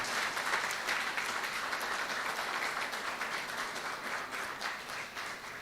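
Sustained audience applause at an academic course event, dense and steady clapping from a crowd filling the whole stretch, holding at even loudness without talk over it.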